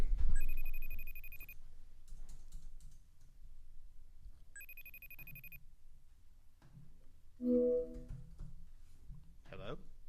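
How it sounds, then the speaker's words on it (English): A telephone rings in two bursts of electronic trilling separated by a pause, with faint tapping and brief voice sounds between and after. "One ring a dingy. It's ringing."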